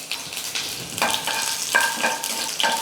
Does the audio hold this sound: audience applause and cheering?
no